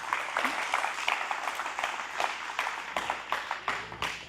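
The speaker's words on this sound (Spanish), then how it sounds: "aplausos." A church congregation claps during a sermon, uneven, moderately loud clapping with distinct sharp claps standing out, thinning toward the end.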